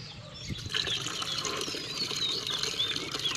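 Water being poured splashes and trickles close by in a steady wet stream, with a sharp splash early and continuous gurgling after, fairly loud and alone.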